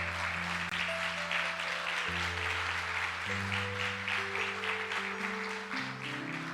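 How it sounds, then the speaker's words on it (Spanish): A church congregation applauds during a sermon, a dense wash of clapping that holds steady under sustained music chords. "Denle un aplauso fuerte al Señor Jesucristo."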